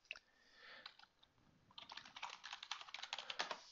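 Computer keyboard keys are tapped to type a file name, starting with a few scattered clicks and then a quicker, close run of keystrokes with no talk.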